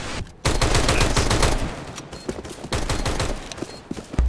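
Rapid bursts of automatic rifle fire erupt in a Counter-Strike round on Dust 2, loud and continuous with overlapping shots and brief pauses between volleys, no talking.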